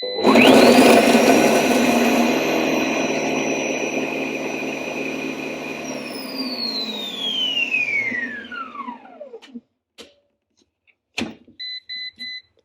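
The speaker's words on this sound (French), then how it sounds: "Et donc, je vais le mixer." A blender whirs loudly, mixing a detox juice of ginger, beetroot and kumquat, its motor holding a high steady whine before winding down and stopping, followed by a clunk and a few short electronic beeps.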